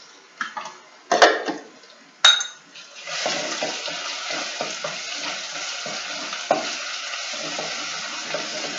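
Dried mint roasting in a hot pan for a Turkish meatball stew, starting with a few clanks of a spoon against the pan before a steady, close sizzle and crackle takes over.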